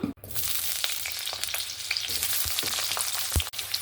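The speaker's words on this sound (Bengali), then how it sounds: "এরপরে আবারও কড়াইতে আমি তেল দিয়ে দেব আলুগুলো ভেজে নেওয়ার জন্য।" Potatoes frying in oil in a wok, a dense, steady crackle and sizzle heard up close, with a few sharp spatula knocks and no talking.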